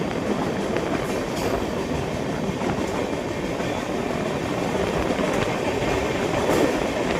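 An Indian express train on the Tatanagar-Amritsar-Jammu Tawi route gives a steady, loud rumble with faint rhythmic wheel clatter throughout, heard from on board with no talking.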